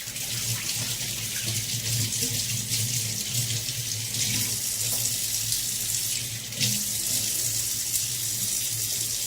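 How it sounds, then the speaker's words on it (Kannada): A kitchen tap runs steadily as a silver plate is rinsed beneath it, a close, continuous splashing hiss with slight shifts in the flow and one brief dip, no talking. "ಇವಾಗ ನೀರಿನಿಂದ ತೊಳಿತೀನಿ."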